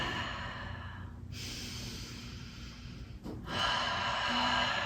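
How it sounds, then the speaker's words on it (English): Slow, deep breathing during a yin yoga stretch comes as long steady inhales and exhales, close and soft against a quiet room, with no talking. "Taking nice deep breaths."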